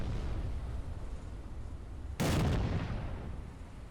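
A single heavy naval gun blast from a warship in the Battleship Command game, a sudden loud boom about midway through that decays over a second above a steady background rumble.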